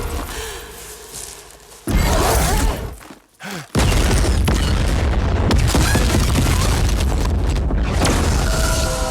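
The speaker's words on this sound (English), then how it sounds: "Heavy artillery now. Watch out." Heavy artillery explosions in the video game Death Stranding 2 land as loud, deep booms, one big blast followed by a sustained rumbling barrage that fills the scene up close.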